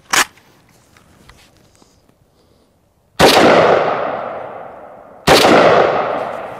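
Two loud, close gunshots from an AK rifle firing 7.62x39 FMJ rounds, each with a sharp crack and a long decaying echo, after a brief earlier report.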